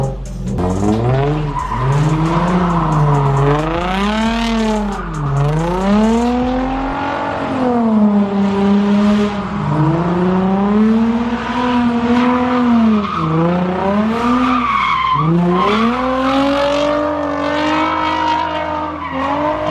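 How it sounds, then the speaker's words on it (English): A Nissan 350Z fitted with a hydraulic handbrake spins donuts, its engine revving in long rising and falling sweeps over continuous loud tire screech, close and unbroken, with no voices. "we might go out and actually bust a couple donuts"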